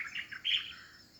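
A rare bird calling in a garden home to hornbills and civets: a few quick high chirps followed by a slightly longer call, faint and somewhat distant, with no voices.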